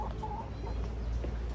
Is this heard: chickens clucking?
yes